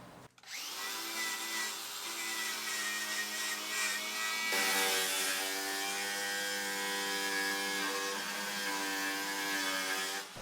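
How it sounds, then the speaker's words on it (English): An angle grinder fitted with a wire wheel scours rust from a Sprinter van body, a loud continuous whining buzz that starts abruptly, steps up in pitch and intensity midway, and runs unbroken for about ten seconds. "So I'm just going to use an angle grinder and"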